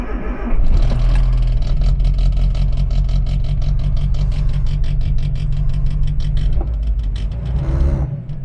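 A Morris car engine idles close by while warming up after years stored in a barn, a steady low rumble with a fast, even pulsing beat that holds throughout.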